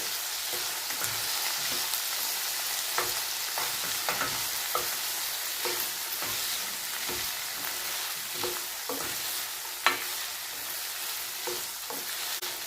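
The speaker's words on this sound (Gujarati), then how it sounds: "હવે આપણે જે સવારેલા ભીંડા છે તે આપણે તેલની અંદર એડ કરી દઈશું અને હવે આપણે ભીંડાને સારી રીતે તેલની અંદર મિક્સ કરી લઈશું" Sliced okra fries in oil for Gujarati bhindi masala, a steady soft sizzle broken by intermittent scrapes and taps of stirring, with one sharper knock near the end and no speech.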